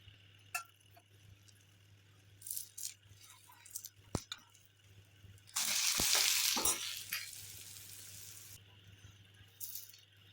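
A spinach (palak) dosa roasts under a lid on a hot pan, giving a steady close sizzle that swells into a loud, dense burst midway, with scattered clicks and light clatter before and after.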